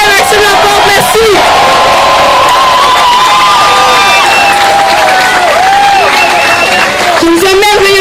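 A crowd at a Journée des Patriotes rally in Quebec erupts in loud, sustained cheering, whoops and shouts layered over applause, with a voice calling out near the start and again near the end.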